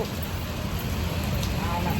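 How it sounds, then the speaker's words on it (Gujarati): Rain falling at Dwarka, a dense, steady hiss of drops close around, continuous and fairly loud for the whole stretch. "બેઠા હતા તો વરસાદ આવ્યો"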